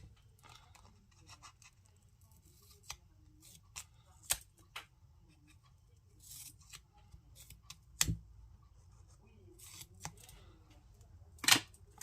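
Scissors cutting a piece of paper card in half, a series of sharp, quiet snips and clicks spread across a hushed background, with one louder snip near the end.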